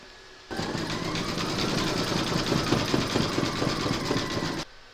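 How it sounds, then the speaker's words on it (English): An embroidery sewing machine runs a satin stitch on a quilted placemat with a turkey applique, giving a steady, close, rapid mechanical chatter that starts abruptly and stops after about four seconds. "then you're going to stitch round number 13, and that's going to do the satin stitch around it."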